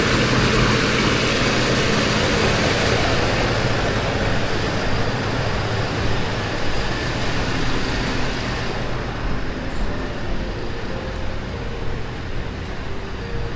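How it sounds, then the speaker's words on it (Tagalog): A constant loud mechanical drone of a grinding mill engine running, steady and unbroken throughout, close by with no talking. "Gilingan ni Kuya July"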